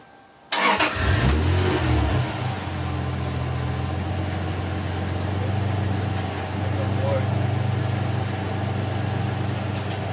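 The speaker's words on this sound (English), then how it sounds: "I'm about to start the car." A Lexus SC300 engine cranks and catches after a moment of quiet, then settles into a loud, steady idle up close with slight revving swells, while people talk inside the car.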